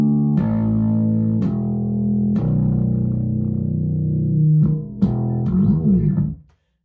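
A fretless electric bass played with a clean tone, a few sustained low notes with smooth slides between them, loud and close, ending abruptly in silence.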